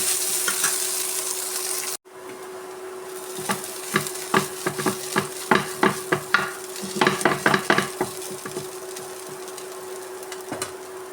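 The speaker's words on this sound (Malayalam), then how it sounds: "നമുക്ക് ഇതിനകത്തേക്ക് ചമ്മന്തി ഇട്ടെടുക്കാം. നന്നായി മിക്സ് ചെയ്തെടുക്കാം." Beef chutney sizzles in a hot pan with a continuous hiss, while a spoon scrapes and taps in quick bursts of stirring through the middle, loud and close with no talk.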